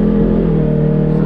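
Polaris RS1 side-by-side driving on the road, a steady loud engine drone with a constant hum and low rumble throughout, no voices.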